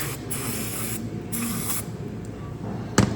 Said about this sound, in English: we're just gonna make sure things are cleaned off with brake clean